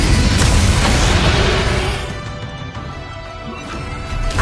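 A Bombarda blasting spell in Hogwarts Legacy, a loud booming explosion that fills the first seconds and then settles into a lower rumbling tail before another surge.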